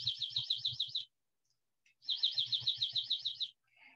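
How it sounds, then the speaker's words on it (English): A dark-eyed junco gives two rapid trilling bursts of sharp, evenly spaced chips, each lasting about a second, close and clear against silence, with a short faint note at the end. "And this is what he sounds like."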